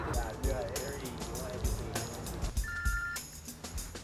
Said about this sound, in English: I'm gonna phone Gillian just to play it safe